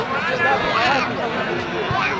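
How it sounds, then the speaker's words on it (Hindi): A dense crowd of pilgrims at the Vaishno Devi shrine, heard at night as a steady babble of many voices close by. "भीड़ हो रही थी अच्छी खासी।"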